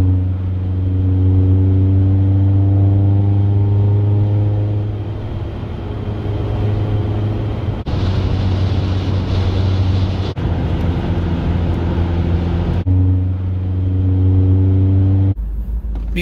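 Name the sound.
car driving with roof rack rubber strips installed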